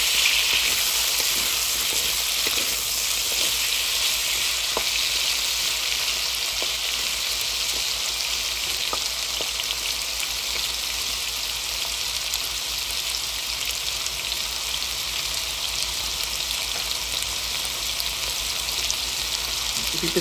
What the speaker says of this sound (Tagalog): Ipiprito lang natin siya guys ng